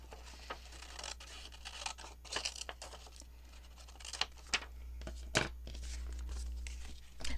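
Paper being cut with scissors to trim a fold from a handmade junk journal pocket, heard as a sequence of close, crisp snips and crinkles at irregular intervals over a low steady hum.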